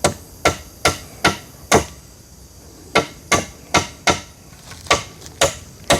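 Wood is hammered for a roof out in the forest, with sharp, loud, ringing blows coming in a loose rhythm of about a dozen strikes. A short pause falls midway, and the strikes stand alone with no voices.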